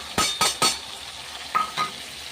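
Spices tipped into a pan of rohu fish curry with potatoes, tomato and green chilli, giving three quick scraping clinks in a row followed by two softer ones, with a faint steady sizzle running underneath.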